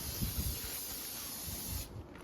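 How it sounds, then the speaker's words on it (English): Carburetor cleaner sprayed from an aerosol can onto a lawnmower carburetor during a DIY tune-up, a steady quiet hiss lasting about two seconds before cutting off, with faint handling knocks underneath. "Clean that out with a little bit of carburetor cleaner too"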